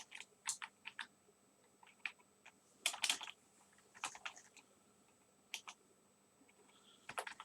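Quiet clicks of a computer keyboard while configuring VLANs on Cisco network equipment, with arrow keys tapped in scattered single presses and short clusters, close and soft, with no talking.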